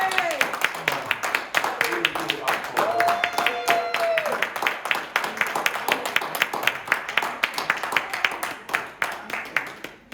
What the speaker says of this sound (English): Can we give another round of applause for the wonderful cast?